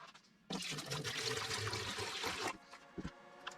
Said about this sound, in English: So we're gonna fill this up with some water.